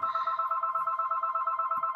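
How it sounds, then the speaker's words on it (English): A home telephone rings in a steady electronic warble, repeating pulses held continuously for about two seconds, alone and fairly clear. "Sorry for the interruption. I got a phone call."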